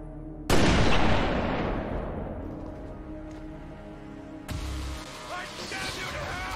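Gunfire in XCOM 2: War of the Chosen, with two heavy, loud shots several seconds apart, each ringing out and decaying into a lingering rumble.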